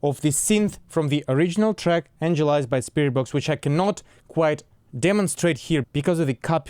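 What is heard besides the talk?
No distinct noise like a dog, phone or traffic.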